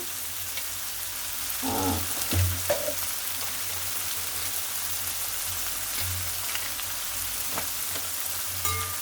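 A steady, even sizzle of vegetables frying in hot oil, continuous and close, with a few faint clinks and no voices.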